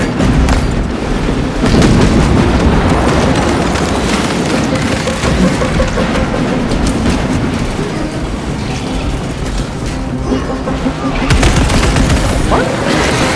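Gunfire in the video game Space Marine 2 rattles in rapid bursts over a thick bed of booms and rumbling combat noise, loud and continuous, with a voice briefly heard in the mix.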